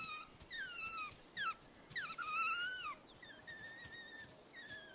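A noisy pack of wild African hunting dogs greeting returning hunters with many overlapping high whines and whimpers, rising and falling calls repeating over a steady hissing outdoor background.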